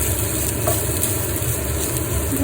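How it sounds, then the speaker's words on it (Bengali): A steady, close sizzle of Hakka chow mein noodles frying in a pan, continuous and even, with a faint low hum beneath and no talking. "এটা ভাজা হতে থাক"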